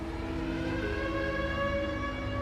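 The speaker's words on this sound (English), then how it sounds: "my first knowledge of the escape was the siren" A steady wailing prison alarm siren at Alcatraz drones throughout, loud and continuous with a layered harmonic tone and no pauses.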